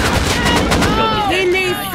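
Loud, close gunshots ring out in the survival video game Rust, a rapid burst of cracks with a ringing tail as a voice briefly talks over the firing.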